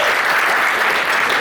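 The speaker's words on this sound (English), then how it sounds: "So give yourself another big round of applause." Loud, dense applause from the audience at a Christina Grimmie Foundation charity event, a brief continuous burst of clapping close by.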